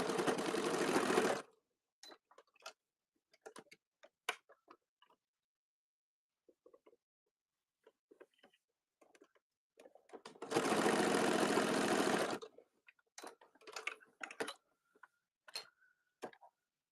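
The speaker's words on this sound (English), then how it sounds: "So we're going to do the exact same thing and sew our darts." A sewing machine runs in two steady close bursts of about a second and a half while sewing darts in a fabric bowl cozy, with light clicks and handling taps in the quiet between.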